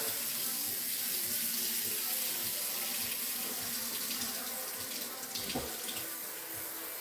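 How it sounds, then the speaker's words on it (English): Cold water runs steadily from a kitchen tap into the sink, a continuous close hiss and splash with a brief clatter near the end. "I'm going to run my cold water"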